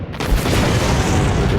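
A warship firing in the naval game Battle Fleet 2, a heavy booming shot that swells and rolls on as a dense, loud rumble.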